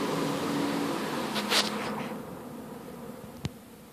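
Bees swarming around two hives whose colonies are fighting, a steady close buzzing drone with brief louder passes of individual bees near the microphone.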